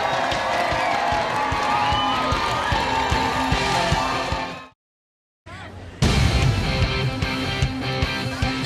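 A large crowd cheers at a Slippery Stairs competition in Rock Hill, a dense sustained roar that cuts to silence for about a second, then surges back loud and full.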